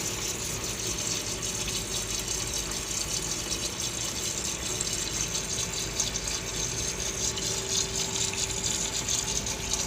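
Water steadily refilling the cistern tank of an old toilet after a float valve replacement, a continuous close hissing rush with a faint rattle throughout and no talking.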